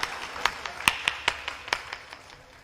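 Scattered audience clapping at a Hindi poetry recital stage, a loose burst of separate hand claps, moderately close and fairly faint, thinning out after a couple of seconds.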